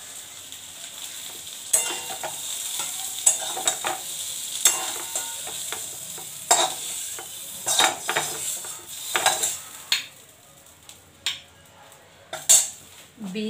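Gourd peel churchuri being stirred in a pan with a spatula, metal scraping and clinking in irregular bursts over a steady close sizzle of frying, with no talking.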